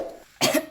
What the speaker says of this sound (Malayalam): ചുമയാന്ന് തോന്നുന്നു.